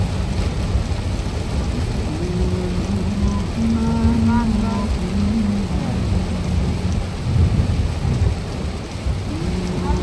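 Heavy rain pours steadily on a car driving on a single-lane road from Chittagong toward Cox's Bazar. Low thunder rumbles through the dense, continuous downpour.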